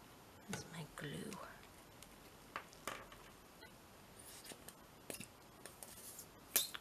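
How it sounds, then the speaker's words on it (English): Scissors cutting a piece off a sheet of paper while making a postcard envelope, soft snips and rustling heard close and quiet, with whispered talk at times. "Let's just cut a piece off."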